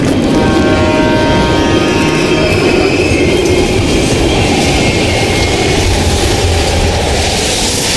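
Train passing at an abandoned East German station in Black Ops Cold War: a loud, close, continuous rumble of railcars with squealing wheels and rhythmic clatter, sustained throughout.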